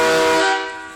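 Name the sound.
air horns on school bus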